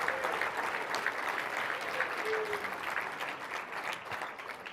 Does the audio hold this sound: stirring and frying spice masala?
no